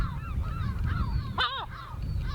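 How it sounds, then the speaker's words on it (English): Herring gull giving warning calls on a coastal island nature reserve, a series of short honking, gooselike calls with one louder, sharper cry near the middle, over steady wind rumble. "No wonder the herring gull was shouting at us."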